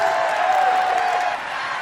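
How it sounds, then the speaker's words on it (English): Crowd noise at a political rally, a dense steady roar of cheering voices with a sustained tone running through it, loud and continuous throughout. "The crowd goes wild."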